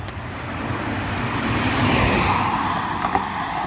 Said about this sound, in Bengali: শো শো করে গাড়িগুলো বেরিয়ে যাচ্ছে